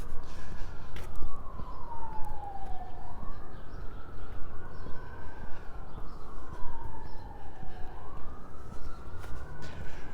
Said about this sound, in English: It's a lot of sirens.